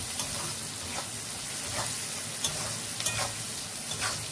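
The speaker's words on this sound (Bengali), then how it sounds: "এবার এর মধ্যে দিয়ে দেব নুন, আধা চামচ মতো দিয়ে নাড়াচাড়া করব" Prawns with a pinch of salt frying in oil in a pan for a spicy prawn curry, a steady sizzle broken by soft scraping stirs at irregular intervals, close and moderately loud with no talk.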